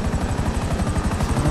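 A helicopter in the video game Grand Theft Auto V thrums with a loud, fast, steady rotor chop throughout the short stretch, close and unbroken.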